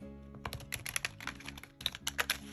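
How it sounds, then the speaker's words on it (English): A White Numen sacred animal tarot deck from Liminal 11 is shuffled by hand: a quick run of crisp card clicks and flutters in uneven bursts, close and fairly quiet. "So the deck, oh, it shuffles pretty nicely."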